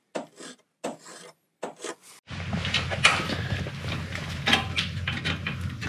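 Flat file rasping a brake caliper mount on a Ride1Up Cafe Cruiser e-bike: several short separate strokes, then a continuous scraping with a rattle and clinks, close and loud.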